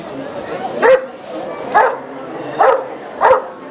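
An Australian shepherd barks four times at a steady interval at an animal fair, each bark loud and close, with a low murmur of people in between.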